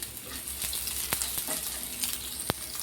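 Chopped ginger and garlic sizzle in hot mustard oil with popped mustard seeds, a soft steady frying crackle broken by a few sharp spits and pops, close and alone.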